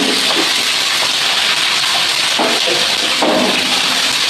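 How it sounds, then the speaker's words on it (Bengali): Potato, pointed gourd and eggplant frying in hot oil in a wok with five-spice seeds and dried red chili, giving a loud, steady, hissing sizzle throughout with no talking. "বেগুন দিয়েটা ভাজা ভাজা করে নেব।"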